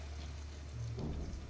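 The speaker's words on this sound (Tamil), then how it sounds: "தண்ணி ஒரு 1/2 டம்ளர் தண்ணி ஊற்றி நல்லா ஒரு 5 நிமிஷம் வரைக்கும் நல்லா கொதிக்கட்டும்." Half a tumbler of water is poured into a pan of simmering egg curry, a brief, soft splashing pour heard faintly against low background noise.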